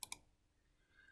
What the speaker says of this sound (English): go ahead and click on next